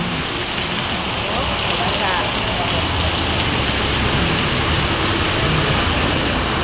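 Steady, dense thunderstorm rain hissing continuously, with a low rumble underneath and no pauses.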